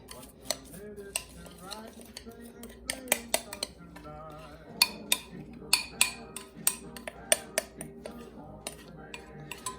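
A metal spoon scrapes and clinks against a pan as a gluten-free dream bar mixture is pressed firmly into a lined baking pan, with sharp taps scattered irregularly among softer scraping, close and fairly quiet.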